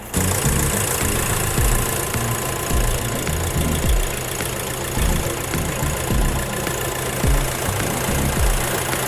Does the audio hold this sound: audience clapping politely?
no